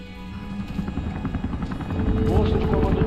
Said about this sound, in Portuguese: Posto de comando 2, último helicóptero chegando.